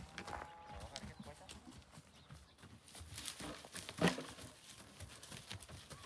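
Hooves of two farm horses clip-clopping at a walk, faint and uneven with scattered soft knocks and rustle, and one sharper louder clack near the middle.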